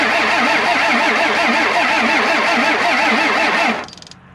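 A 1st gen Cummins diesel engine cranking on a weak battery, loud steady rhythmic starter whirring with a pulsing wobble for several seconds, then abruptly cutting off into quieter fading clicks without catching.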